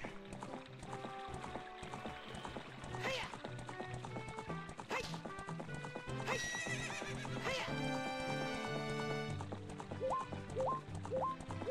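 A horse in Ocarina of Time whinnies and its hooves clip-clop over game music, with the neighs rising above the steady music and effects.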